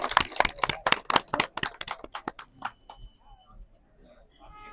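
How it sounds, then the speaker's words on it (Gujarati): Rhythmic clapping from a gathering welcoming a guest at the opening of the tobacco auction in Deesa, a burst of sharp claps that thins out and fades, followed by faint background voices. "તાળીઓના ગડગડાટથી વધાવું છું."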